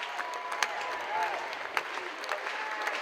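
Spectators at a 2025 NCAA baseball regional between Murray State and Ole Miss cheer and clap in a sustained, fairly distant wash of applause, with scattered sharper claps and a commentator's voice faintly over it.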